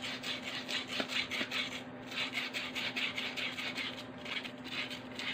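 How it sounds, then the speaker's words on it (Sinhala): Sandpaper rubs back and forth over the armature of a small clip fan's motor, a steady close rasping scrape with a faint hum underneath. "මෙන්න මේ විදිහට පොඩ්ඩක් වැලි කඩදාසියකින් ඔන්න ඔහම මැද ගන්න හොඳට"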